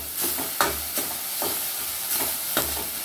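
Thin strips of capsicum sauté in a hot pan with a steady sizzle, broken by several scraping stir strokes, close and fairly loud with no voices.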